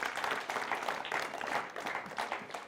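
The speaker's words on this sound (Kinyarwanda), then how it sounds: "Duhuze ibiganza dukomere Imana yacu amashyi menshi cyane." Congregation clapping at a church worship service, a steady dense patter of many hands carrying on evenly throughout at moderate loudness with no speech.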